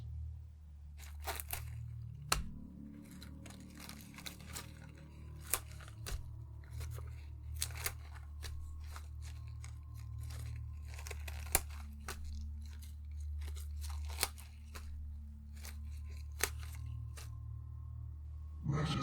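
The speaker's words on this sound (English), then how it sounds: "Lettuce is nothing but crunchy water." Crisp lettuce leaves torn by hand for a secret sandwich, giving sharp crunchy snaps and rips spread irregularly over a steady low background hum, close and fairly quiet.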